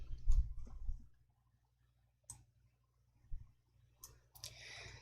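A computer mouse clicks to confirm a setting in Excel, leaving a few sparse, quiet clicks with soft low thumps between stretches of near silence.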